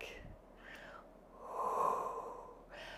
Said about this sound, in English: You're going to exhale to open, inhale to come back.